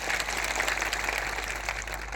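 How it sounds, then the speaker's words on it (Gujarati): Crowd at a political rally clapping for police officers on duty, a steady dense wash of applause from many people, fairly distant and even with a constant low hum beneath. "તાળીઓ પાડી લો."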